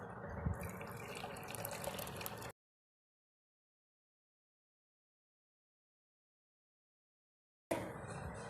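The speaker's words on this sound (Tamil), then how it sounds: "இது ஒரு கிளாஸில் வடிகட்டி எடுத்துக்கலாம்." Herbal kashayam decoction made with tulsi, strained into a glass: a soft trickle of pouring liquid for about two seconds, then a long silent gap before the liquid sound briefly returns.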